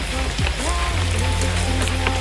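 Rain falling at a farm, a dense close hiss of drops on surfaces running throughout, with low engine-like hum and brief tonal sweeps mixed in.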